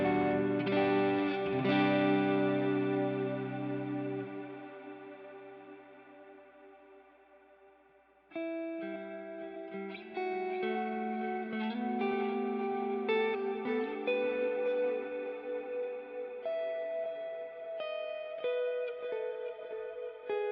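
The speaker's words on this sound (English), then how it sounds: "this here will just turn on a more washy reverb" Electric guitar played through a washy reverb pedal with a long decay and added top end: sustained chords ring out and fade slowly over several seconds, then a fresh strummed passage swells, with wet, shimmering tails and no talking.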